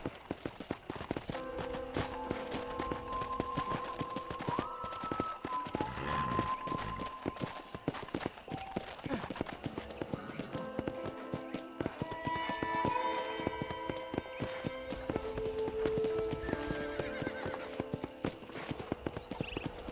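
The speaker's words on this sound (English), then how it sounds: "let's see if you can still ride a horse" A horse in the Western game Red Dead Redemption clip-clops along at a steady walking rhythm, hooves thudding continuously with a few whinnies and snorts over faint background music and ambience.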